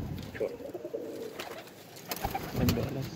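Soft, throaty pigeon coos sound close by in short bursts, a few calls with brief pauses and light background rustling between them.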